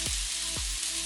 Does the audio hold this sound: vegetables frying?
yes